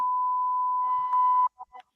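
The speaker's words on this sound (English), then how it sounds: "We're going to have to bleep it out every single time." A single steady electronic beep tone holds for about a second and a half, followed by two faint short blips.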